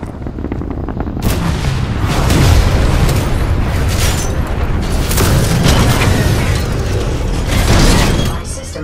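A giant mech from Titanfall drops from the sky and lands with a heavy, rumbling boom, preceded by rising mechanical roar and followed by lingering clanks and thunder, loud and near, with a voice partly over it.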